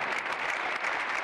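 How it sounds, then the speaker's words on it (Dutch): A theatre audience applauds the cast of the Dutch stage show "Toen was geluk heel gewoon" during a centenary tribute, with steady, dense clapping that holds evenly throughout at a moderate level. "Nogmaals een fantastisch applaus."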